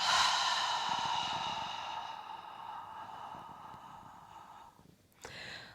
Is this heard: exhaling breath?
yes